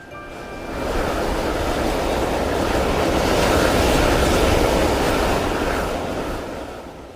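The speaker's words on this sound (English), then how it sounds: "That's the sound of the thundering geysers of Yellowstone Park." Thundering geysers in Yellowstone Park, an extreme environment of scorching soils, give a dense, steady roar that builds after a second and holds loud throughout, like rushing surf or wind, with no voices.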